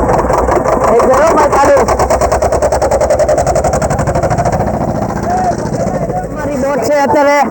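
A faulty boat engine on the Narmada river is cranked and starts, chugging loud and close in a fast, steady rhythmic pulse that settles into idling, with voices talking over it.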